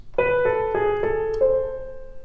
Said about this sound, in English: And the right hand will be legato or smooth.